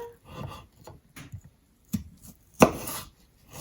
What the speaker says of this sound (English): make it a little more convenient to just zip through chopping those up really quick